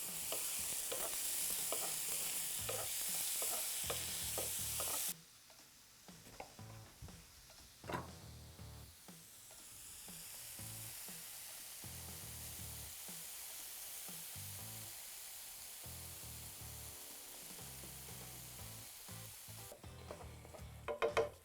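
Canned black beans cooking in a pan, a bright hiss at first, then quieter bubbling and a run of spoon clinks and scrapes, with another burst of sizzle at the end.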